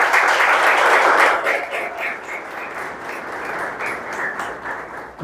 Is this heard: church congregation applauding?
yes